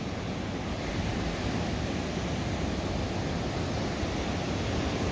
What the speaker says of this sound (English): the sounds of the waves crashing on the stones and in the shore